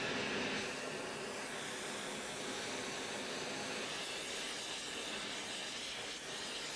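Harris oxy-LPG torch lit after its valves are opened, giving a steady, loud broadband roaring hiss that holds evenly throughout with no talking.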